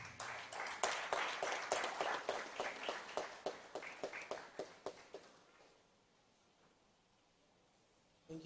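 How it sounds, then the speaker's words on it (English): An audience at a youth democracy forum gives a round of applause, a dense burst of hand clapping that fades out over about six seconds into near silence. "If you're ready, let's welcome the SRC president of Wisconsin International University College, Hakeem Enyan Steve, with a round of applause"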